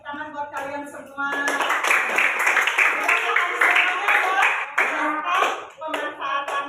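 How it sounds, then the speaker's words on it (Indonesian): Children in a classroom clap together in a lively burst of applause, bright overlapping claps close by, with a voice heard briefly before it starts. "tepuk tangan buat kalian semua"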